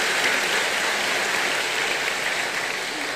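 A church congregation at a Sunday service applauds steadily for the broadcasting staff, a dense, even wash of many hands clapping at one level throughout, with no voices standing out.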